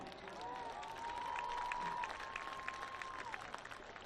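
Audience applause during a Davidson Athletic Hall of Fame induction ceremony for the class of 1974, a steady wash of clapping with a faint tone running under it, heard at a distance through a broadcast feed.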